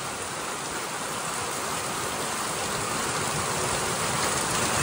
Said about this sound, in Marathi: फुल पाऊस आहे, फुल ऑन